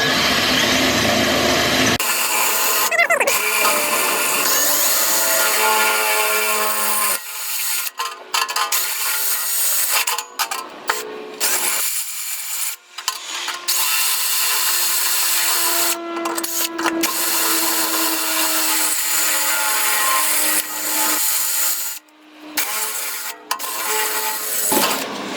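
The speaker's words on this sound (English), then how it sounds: "use the holes as a guide to drill holes into the frame" A power drill whines in repeated bursts, drilling holes into the frame of a 2012-2017 Toyota Prius V, starting and stopping several times with short pauses between, loud and close, with a steady pitched tone during longer runs.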